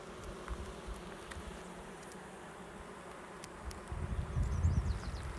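Honeybees buzz at an open beehive, a steady soft drone throughout that swells louder and nearer toward the end, with no talk.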